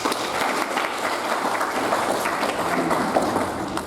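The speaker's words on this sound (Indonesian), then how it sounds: "Tepuk tangan." A crowd at a school photography training event applauds steadily, a dense, even patter of many hands clapping throughout, moderately loud and sustained.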